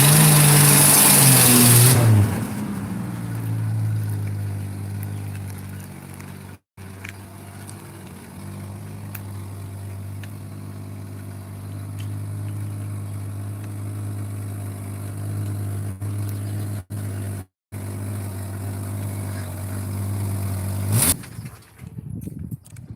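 A 45-year-old hot rod engine runs steadily near the listener with a deep, even idle, briefly cutting out twice before a final rev near the end.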